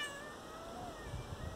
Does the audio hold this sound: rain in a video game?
no